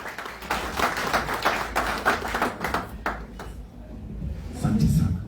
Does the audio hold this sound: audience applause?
yes